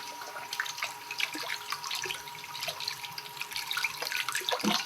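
Tap water runs steadily into a sink while a soil sample's particles are gently washed, a continuous close hiss and splash with small drips and clinks, no talking.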